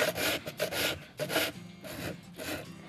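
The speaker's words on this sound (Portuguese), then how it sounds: "Por isso que eu uso a lixa 60, que é bem grossa." Coarse 60-grit sandpaper rubbing over a wooden slatted planter, rhythmic back-and-forth scraping strokes, about six passes, close and clear with no talk.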